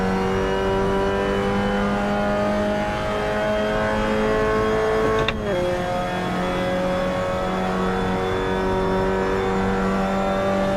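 A Mazda MX-5 Cup race car's engine whines loudly and continuously in a Portland racing sim, holding a steady high drone, then dropping pitch sharply midway at a gear change and carrying on evenly.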